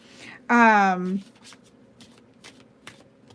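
An oracle card deck is shuffled, with a brief voice-like tone at the start followed by soft, scattered riffling ticks.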